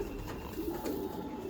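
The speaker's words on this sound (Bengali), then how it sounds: "পিটার ভেনেস্তার কবুতর।" A Peter Venester line racing pigeon coos softly and low, a faint, continuous throaty murmur in a quiet loft, with no talking.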